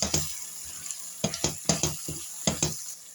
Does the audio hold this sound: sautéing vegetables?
yes